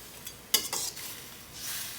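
Spoon stirring pork belly adobo simmering in a pot with added water, a close scrape and clink followed by soft bubbling and sizzle, no voices.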